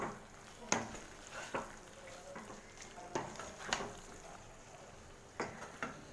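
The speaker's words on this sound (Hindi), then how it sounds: "मीडियम फ्लेम पे इसको हम ज़रा सा कुछ सेकंड के लिए इसको हम थोड़ा सा पकाएंगे चलाते हुए।" Kadai paneer masala stirred in a pan over a medium flame, with a steady soft sizzle of frying broken by several sharp clinks and scrapes of the spoon against the metal at uneven intervals.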